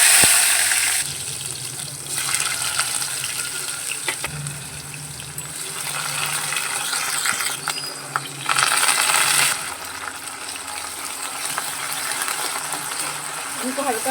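Green chili, garlic, ginger and coriander leaves sizzling in hot oil in a kadhai, a steady hiss with crackles and brief clinks of utensils, close and fairly loud without talk.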